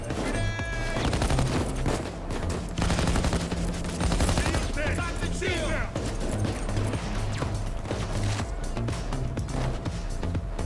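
Rapid gunfire bursts in the heist shooter Payday 2, dense volleys and single cracks layered over game music and effects, with someone talking over the shooting.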